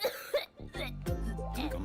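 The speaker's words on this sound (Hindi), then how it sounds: "खांस रहे हो" A man gives a couple of short, close coughs at the start, followed by a voiced sound.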